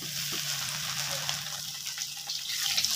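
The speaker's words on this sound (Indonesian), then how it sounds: "Ini udangnya mau aku cuci" Raw shrimp are rinsed under running water in a kitchen, giving a continuous splashing, gushing stream with small irregular splatters and clinks and no talking.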